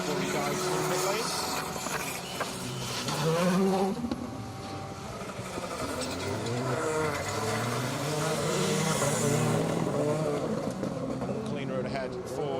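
A rally car on a circuit rally stage drives past, its engine buzzing and shifting pitch as it goes by, heard under continuous commentary from a speaker throughout.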